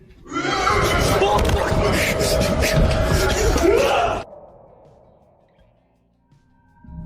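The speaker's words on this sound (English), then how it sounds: "An extremely chilling, demon-like scream can be heard coming from somewhere within the building." A chilling, demon-like scream echoes inside a building, a loud, harsh, horse-like shriek that runs for about four seconds and cuts off sharply into near silence.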